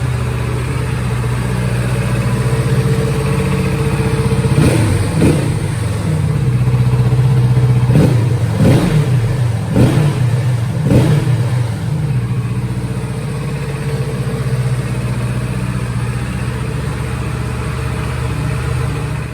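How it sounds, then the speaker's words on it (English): A Kawasaki Z650RS motorcycle idles close by, then its engine is blipped through several sharp revs with strong airbox intake roar and exhaust note, settling back to a steady idle. "More noise from the airbox than it does from the exhaust."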